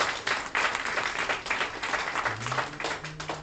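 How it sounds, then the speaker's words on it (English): Audience applauding musicians at a Bhagwat Katha gathering, sustained mixed clapping from a crowd throughout, with a low tone entering near the end. "Let's give them a round of applause for..."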